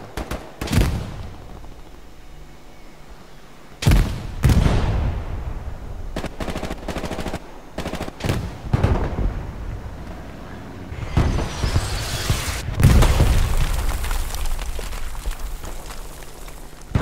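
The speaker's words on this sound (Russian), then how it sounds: "И арта, по-моему, не вражеская, по-моему, наша арта." Battlefield gunfire and artillery blasts in the WWII shooter Hell Let Loose, loud sharp bangs scattered through the clip, with heavier booms and rumbling bursts near the end.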